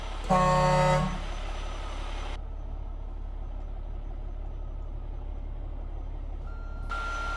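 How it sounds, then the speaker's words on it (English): A loud, deep truck horn blasts for about a second, followed by a steady engine rumble and a faint tone near the end. "Proper truck horn."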